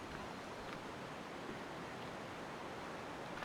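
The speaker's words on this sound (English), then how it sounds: "Lura Falls down there." Leura Falls waterfall far below in a canyon, heard as a faint, steady broadband rush of falling water with no voices.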